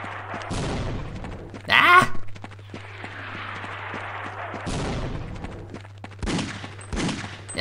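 Mortar fire in Half-Life: Opposing Force lands as a run of heavy booming blasts, one very loud burst near the start followed by more thuds and crashes spread across the clip, with a steady low hum underneath.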